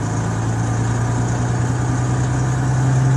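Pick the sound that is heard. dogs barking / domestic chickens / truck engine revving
truck engine revving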